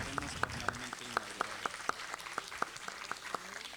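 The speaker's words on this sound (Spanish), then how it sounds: "vamos a darle Un aplauso a la doctora Lupita." Audience applause for a speaker at a parish psychology conference, with soft crowd clapping running underneath while one set of sharp claps strikes in an even, steady rhythm close by.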